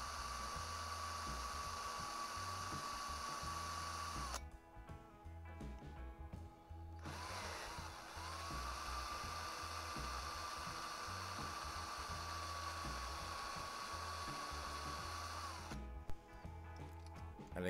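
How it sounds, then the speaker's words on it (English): A small pilot drill bores out two rivets on the base of a Corgi Jaguar Mk10 die-cast model car, giving a steady high whine that breaks off briefly and then resumes, close and alone. "we're going to just drill out the two rivets with a pilot drill"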